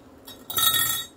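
Whisk clinking against a mixing bowl of blueberry pancake batter, a quiet tap followed by a brighter burst of metallic clinks lasting under a second, with no talking.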